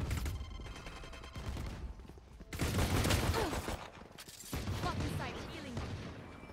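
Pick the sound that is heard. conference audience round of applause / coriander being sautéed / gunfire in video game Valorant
gunfire in video game Valorant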